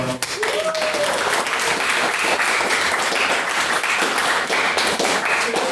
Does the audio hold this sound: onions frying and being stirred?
no